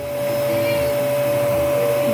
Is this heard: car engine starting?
no